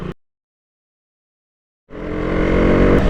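A KTM motorcycle engine on a city ride starts up after a stretch of silence and builds into a steady, close drone with rising intensity, with no talking.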